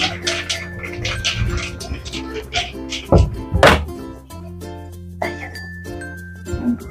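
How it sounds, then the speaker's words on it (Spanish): Glass panes from a kitchen table clink and knock as they are lifted off, several sharp chinks and thunks over a background of clattering, with one louder burst in the middle; no one speaks. "Le vamos a estar quitando los cristales y la voy a estar limpiando bien de aquí."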